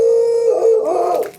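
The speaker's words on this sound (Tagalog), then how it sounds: "May aso nakatali." A tied-up dog gives a single sustained howl at an abandoned house, a steady close tone that wavers slightly before trailing off at the end, with no talk over it.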